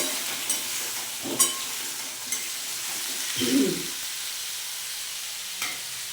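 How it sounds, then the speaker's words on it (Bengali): A spatula stirs cut potatoes into frying paneer in a pan over a soft background sizzle, with a few sharp clinks and one louder scraping stir near the middle, and no voices. "এইবার আমি এই কেটে রাখা আলুগুলোকে এই পনিরের মধ্যে দিয়ে দেব। দিয়ে খুন্তি দিয়ে নাড়িয়ে নেব।"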